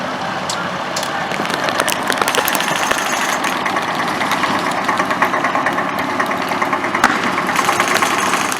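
A tank engine, part of a WWII airsoft battle reenactment of Seelow Heights, rumbles at idle, a steady rough mechanical drone with clattering texture, close and loud throughout, with no voices.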